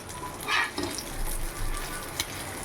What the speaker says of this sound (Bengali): এখন ডিমে অমলেট করছি